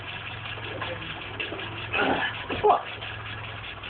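Nissan Cherry engine idling on its first cold start after sitting, a steady low rumble running throughout beneath nearby people talking and brief noises.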